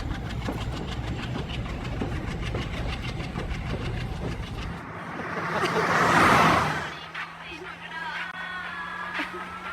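A train at a railway station, with a steady rumble and clatter that swells into a loud rushing passage midway before settling back into a low hum, heard under people talking.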